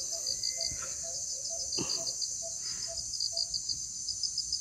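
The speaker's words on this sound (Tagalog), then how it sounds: "Mga ibon tsaka gangis lang ba?" Crickets chirp steadily in a high continuous trill on a quiet mountainside, with scattered bird calls and chirps repeating over it at a moderate distance, and no talking.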